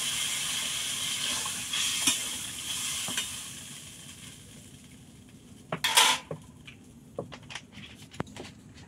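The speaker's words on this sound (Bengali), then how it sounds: "এবার আমি জল দিয়ে দিচ্ছি।" Shrimp curry with papaya and ground mustard sizzles in a hot pan as water is poured in, giving a sudden sharp hissing burst over steady frying crackle, with a few light utensil clinks and taps around it.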